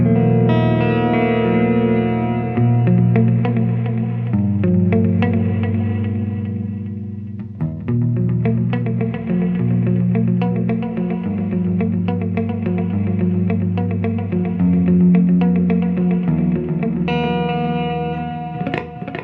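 Sustained electric guitar chords through a Walrus Audio Qi Etherealizer pedal, drenched in crisp repeating delay echoes and reverb, loud and continuous, notes trailing into one another.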